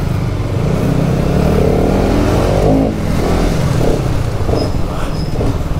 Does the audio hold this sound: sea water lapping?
no